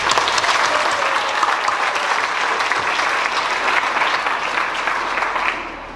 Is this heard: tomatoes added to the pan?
no